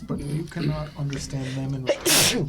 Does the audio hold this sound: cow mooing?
no